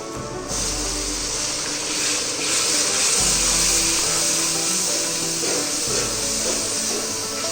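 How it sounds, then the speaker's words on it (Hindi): Water poured into onions frying in a pan for a karela gosht curry, a loud, steady hissing sizzle that continues close and unbroken throughout. "इसमें हम हल्का सा पानी डालेंगे।"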